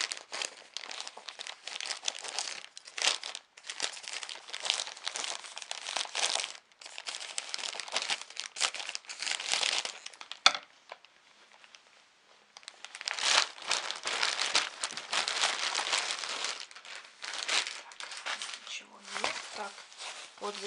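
Sealed packaging for a small tripod being opened and unwrapped: steady crinkling and rustling of plastic and paper, close and fairly quiet, continuing for about twenty seconds with a brief lull near the middle.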